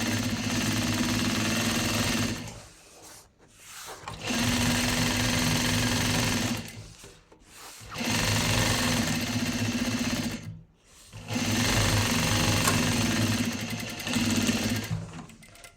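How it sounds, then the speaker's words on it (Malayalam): A domestic sewing machine runs in long steady bursts of a few seconds each as it stitches a folded fabric edge, with a loud, even motor whir and rapid needle clatter and brief pauses between runs, and no talking. "ഞാൻ ജസ്റ്റ് ഒന്ന് മടക്കി തയ്ക്കുകയാണ് കേട്ടോ"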